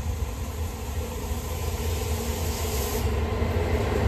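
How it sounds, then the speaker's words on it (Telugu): A train approaching on a railway line gives a steady, loud rumble with broad hissing noise that holds for a few seconds and swells slightly toward the end. "చూడండి గైస్, ట్రైన్ వస్తుంది."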